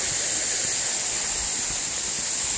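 Silver Falls in Oregon roars as a steady, broad rush of falling water that fills the scene at a constant level, with no voices over it.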